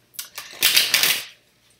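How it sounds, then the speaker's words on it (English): A deck of cards is shuffled close by, a few quick riffles building into a dense papery flutter that lasts about a second before stopping. "Let me tell y'all while I'm shuffling these cards."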